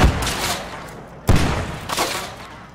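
Grenade explosions and rifle fire in the military shooter Arma 3: a loud opening blast, a second heavy boom about a second later, and then a rattle of shots, all close and harsh.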